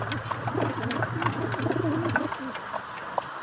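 Pigeons coo in a steady, repeated low throaty rhythm close by, accompanied by faint fluttering and scattered light clicks and taps, with some background noise but no clear talk.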